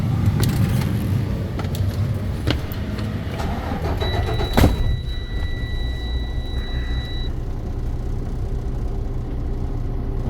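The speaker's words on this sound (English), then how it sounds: "Now you start the truck." A truck engine cranks and settles into a steady, rumbling idle during a pre-trip inspection outdoors, with a sharp knock partway through and a faint high whine running for a few seconds.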